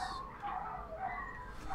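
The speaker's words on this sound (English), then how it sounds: "I do apologize for the dogs." Dogs bark briefly in a room, a quick burst of faint yapping over a constant background hum.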